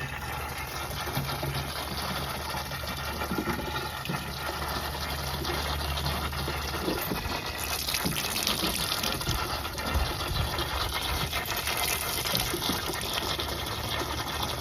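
Water gushes and splashes steadily onto garden plants for a long stretch, a continuous rushing pour with no pauses and no voices.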